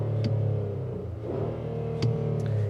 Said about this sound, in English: Starting the vehicle up, you can see this is not a hybrid or a mild hybrid, so it has a traditional starter noise with the V6.